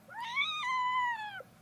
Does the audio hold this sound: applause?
no